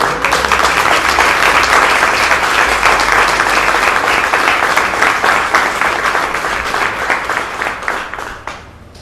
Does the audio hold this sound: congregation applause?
yes